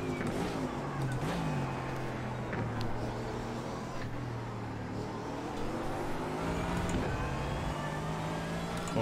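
A GT3 race car engine in iRacing at Monza drones loud and sustained, its pitch dipping and climbing through gear changes across nine seconds, with no talk over it.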